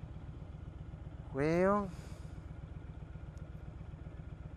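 A motorcycle engine idles in neutral with a steady, low, close putter, and someone speaks briefly over it.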